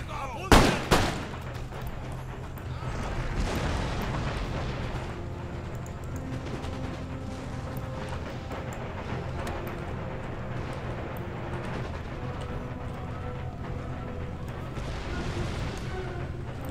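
Musket volleys and artillery fire from a battle in the strategy game Empire: Total War, with Hessian light infantry under fire. Two loud cracking shots open it, then a sustained, dense roar of gunfire and distant booms runs steadily throughout.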